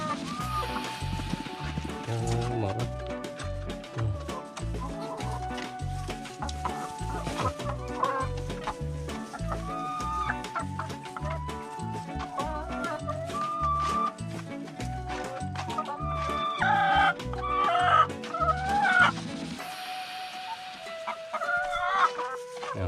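Hens in a farm garden cluck steadily in the evening while eggs are collected, with an occasional rooster crow among repeated close, busy calls.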